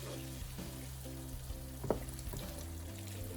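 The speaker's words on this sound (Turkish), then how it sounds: "Şimdi tavuklarımı içine dökeceğim." Chopped chicken is tipped into a pan of browned onions, setting off a loud sizzle with clattering and a sharp splash as it lands, then continued frying hiss.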